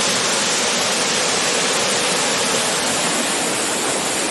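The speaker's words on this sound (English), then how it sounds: "See the top of the waterfall there." Waterfall near Roche Abbey in King's Wood, Rotherham, England: a steady, dense roar of falling water fills the whole clip, loud and unbroken, with no voices.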